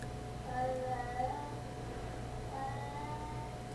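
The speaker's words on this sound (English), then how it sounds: "just the weirdest cat. He makes the weirdest sounds in the middle of the day." A pet cat makes odd, drawn-out meowing, yowling sounds, two wavering calls separated by a pause, fairly faint over a steady background hum.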